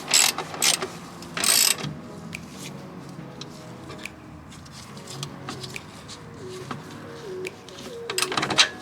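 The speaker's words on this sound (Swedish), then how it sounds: "Och sen ska vi då dra åt den här muttern här då." Ratcheting clicks and metallic mechanism sounds from tightening a nut on the fuel filter of a 2006 Volvo V70 2.4 140 hp, in bursts with pauses, fairly close.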